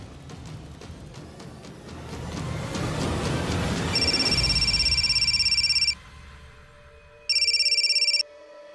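A telephone rings in two steady electronic bursts, loud and close, separated by a short gap, after a swelling rumbling buildup.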